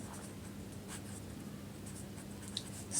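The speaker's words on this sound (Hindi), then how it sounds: "तो यहाँ पे पहले सब्जेक्ट लिखेंगे कर्ता, तो राजन," Pen or marker writing strokes on a board or paper during a Hindi grammar lesson, a steady soft scratching texture continuing alone for a few seconds at low level.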